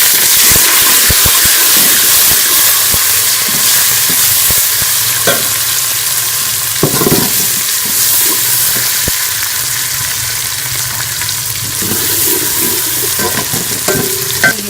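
Onions fry with finely chopped tomato and green chillies for boti salan, a loud continuous sizzle and hiss close up, broken by scattered clinks and scrapes of stirring, with no voices.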